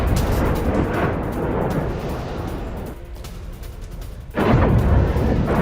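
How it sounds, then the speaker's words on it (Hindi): Explosions from Russian strikes in Mariupol rumble as a dense, roaring wall of deep booms, easing into a lower stretch before a fresh heavy blast surges back in, loud and sustained with no voices. "हमलों के बाद मारियोपोल में धमाकों की आवाज।"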